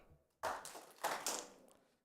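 Audience at a Cyberweek Africa 2024 conference session clapping once on cue, a scattered burst of hand claps that swells, briefly renews and fades within about a second and a half, heard moderately far off.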